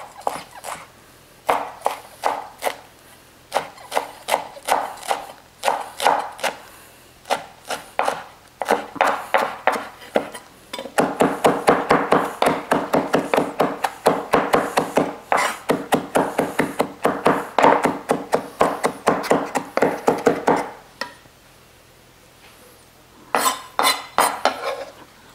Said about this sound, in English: And you just chop finely as well.